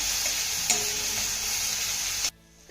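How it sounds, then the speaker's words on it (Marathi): Chopped tomato sautés with onion in a pan in a loud, continuous sizzle with light stirring clicks, then cuts off abruptly into near silence. "आता हा टोमॅटो देखील आपल्याला चांगला मौसूत होईपर्यंत परतून घ्यायचा आहे"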